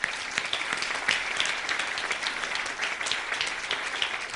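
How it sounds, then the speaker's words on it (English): Steady applause from a modest audience, a few seconds of even clapping at moderate distance with no talk over it. "Give her a round of applause."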